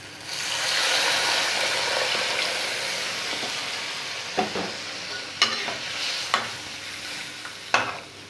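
Hot water hits onions frying in a pan for duck egg curry, bursting into a loud, broad sizzle that slowly fades. Several sharp scrapes and knocks of stirring follow, close by and without speech.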